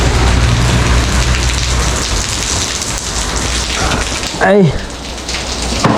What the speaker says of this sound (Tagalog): lagi na lang naulan mga sulo